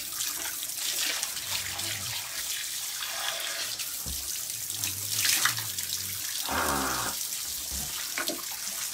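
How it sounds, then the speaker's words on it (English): Hot water runs from a bathroom tap while someone prepares to shave, a steady splashing hiss filling the sink, close and fairly loud, with a brief stronger gush partway through. "We need some hot water."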